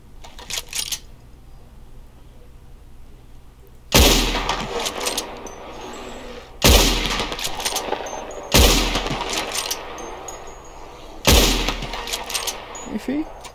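In Red Dead Redemption 2, a rifle fires at the legendary bear. Four loud, evenly spaced gunshots ring out over quiet outdoor game ambience, and a voice talks softly in places.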